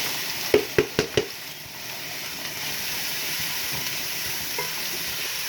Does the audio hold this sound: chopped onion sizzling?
yes